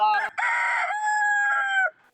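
A man imitates a rooster crowing with his voice, one long, loud, close cock-a-doodle-doo held for over a second after a brief opening note, then stopping abruptly, with no other talk.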